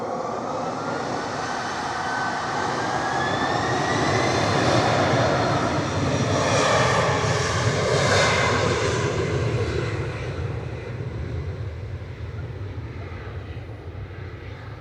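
Gulf Air airliner pushing back at Manchester Airport, its jet engines a loud sustained whining roar that rises to a peak and then eases slightly as it continues, with no talking.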